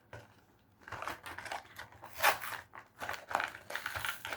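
A Beyblade toy package is opened at close range, giving quiet bursts of scissor snips, plastic crinkling and tearing in an uneven sequence, with no talking.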